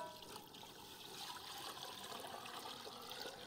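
A gram flour and yogurt paste for kadhi is poured into a pan of oil, giving a faint, continuous liquid trickle and gentle sizzle-like wash with no talking.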